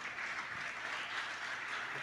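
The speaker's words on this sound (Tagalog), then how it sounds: "palakpak po para sa Panginoon." Congregation applause at a church service, a steady, moderately quiet wash of clapping with no talk over it.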